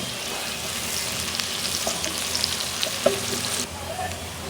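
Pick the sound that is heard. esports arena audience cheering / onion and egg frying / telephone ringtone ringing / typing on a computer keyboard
onion and egg frying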